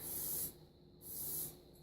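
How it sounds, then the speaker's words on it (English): Two short hissing bursts of cooking spray onto the end of a fork, close and fairly loud, each about half a second long with a brief pause between them. "I'm going to spray the end of the fork"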